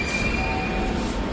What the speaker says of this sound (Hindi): यहाँ लगा मेट्रो।